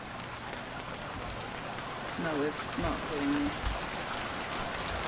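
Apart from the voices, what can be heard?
rain in a video game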